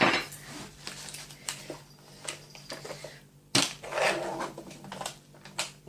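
A metal spoon clinks and scrapes in a bowl of Lucky Charms cereal with milk, a series of sharp, close taps and rattles at irregular intervals, one louder clatter midway, with no talking.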